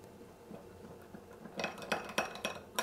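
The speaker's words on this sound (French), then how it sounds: "On va bien remuer ça." A spoon stirs a mix of cornstarch and water in a small dish, tapping and clinking against the sides in a quick irregular run of strokes, close and fairly soft, with no talking.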